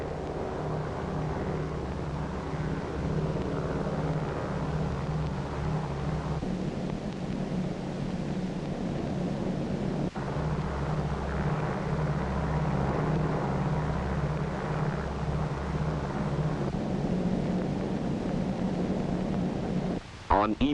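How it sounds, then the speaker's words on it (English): B-29 bomber Dave's Dream flying with escort planes toward Bikini, a steady, dense propeller-engine drone holding throughout, with a brief change in tone midway and a sharp break near the end. "With her escort of photographic and weather and instrument planes, Dave's Dream proceeds to the Bikini target."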